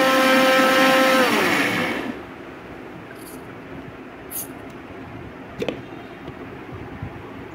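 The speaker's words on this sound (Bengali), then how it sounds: "মিশ্রণটি মিক্স করা হচ্ছে ব্লেন্ডারে।" A kitchen blender churning raw green mango juice runs loud and close for about two seconds, then winds down and stops, leaving quiet room tone with a few faint clicks and taps.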